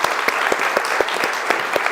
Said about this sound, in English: can we just get a big round of applause